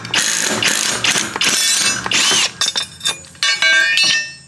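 Short right angle impact wrench loosening a mower blade bolt on a John Deere 1025R mid-mount mower deck, heard as several loud, close bursts of rapid metallic clattering hammering separated by brief pauses.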